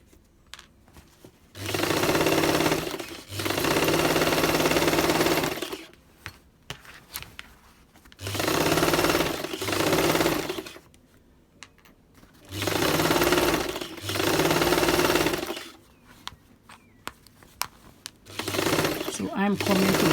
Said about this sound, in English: going to stitch this skirt with a regular stitch from the bottom